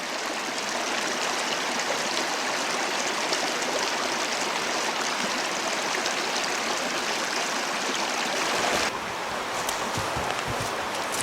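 The Wey River flows beneath a railway bridge, a steady broadband rush of running water that stays loud and close throughout, with a brief shift in texture near the end.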